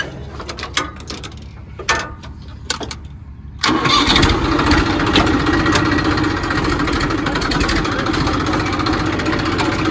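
A few clanks and knocks, then a Farmtrac 45 tractor engine roars to life and keeps running loudly and steadily, close by, the tractor stuck in a deep pit.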